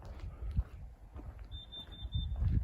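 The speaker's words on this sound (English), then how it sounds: "if ever you wanted to know if my carbon monoxide alarm worked" Inside a car while car camping, a carbon monoxide alarm sounds a rapid run of thin, high electronic beeps at moderate distance, over low rumbling and shuffling noise.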